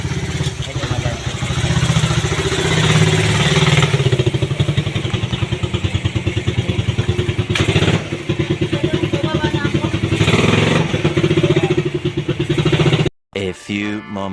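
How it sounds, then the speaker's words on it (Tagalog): Loud motorcycle engine running close by with a rapid, steady chugging pulse that fills the clip, voices talking over it, before the sound cuts off near the end. "sobrang ingay ng motor"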